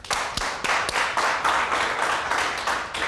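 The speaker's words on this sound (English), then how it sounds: "You can clap your hands." An audience clapping along in a steady rhythm during a hip-hop talk show, loud and dense with repeated sharp beats and no talk.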